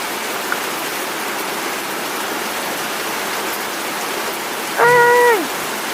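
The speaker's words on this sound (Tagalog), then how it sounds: "ang lakas ng ulan" Heavy rain pours as a steady, loud wash of noise from start to end, and a short horn-like tone briefly rises over it near the end.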